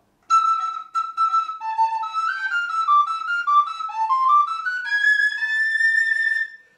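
Renaissance recorder with a sweet, soft tone, played alone in a short, clear melody of stepped notes that rises toward a long held high tone at the end.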